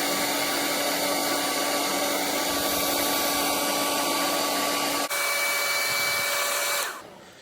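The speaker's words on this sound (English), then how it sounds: "while I'm using this hair dryer, I'm also peeling it off from the corner" A hair dryer heats the control panel overlay of a Kenmore oven, blowing with a loud, steady whir and whine for about seven seconds before abruptly winding down.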